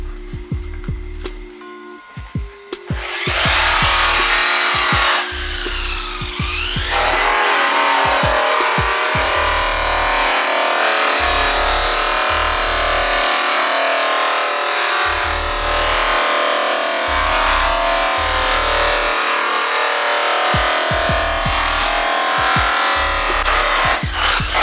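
A DeWalt buffer wheel spins loaded with green polishing compound, giving a steady loud whir and hiss that runs almost without break, with repeated low pulses from the motor underneath.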